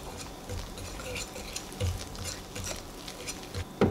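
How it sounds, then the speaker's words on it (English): Apple cider fish batter is slowly whisked in a bowl, giving faint, soft rhythmic ticking and patter strokes close by, with no talking. "I'm going to use my whisk here to slowly whisk"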